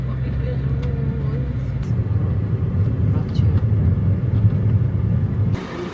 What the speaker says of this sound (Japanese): また普通の車ですけど向かっております。